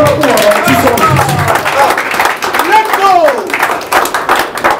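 Church congregation clapping and cheering in acclaim of Jesus Christ, loud rhythmic clapping mixed with shouting and singing voices throughout.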